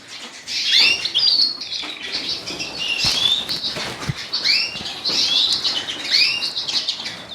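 Many small birds in an indoor bird room chirp and tweet busily, high bright calls overlapping close by, mixed with the fluttering of wings as they fly about, plus a couple of soft knocks.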